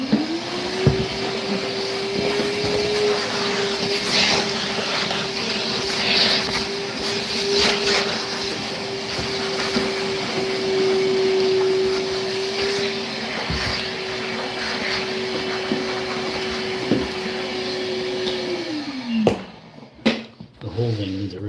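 A vacuum cleaner draws up debris while old caulking is stripped from a bathtub, its steady loud whine running for most of the clip before spinning down near the end.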